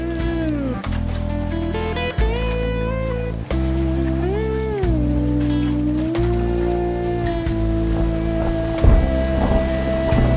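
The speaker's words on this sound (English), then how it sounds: "it's pouring down rain" Heavy rain pours down steadily, a dense hiss of drops over a loud, droning engine-like hum with shifting pitched tones.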